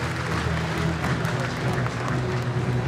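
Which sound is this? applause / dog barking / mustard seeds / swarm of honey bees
applause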